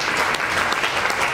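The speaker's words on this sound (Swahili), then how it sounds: "Pigie tena makofi zaidi." A church congregation applauds for Jesus during a prayer service, a dense, steady wash of many hands clapping together at close range with no break throughout.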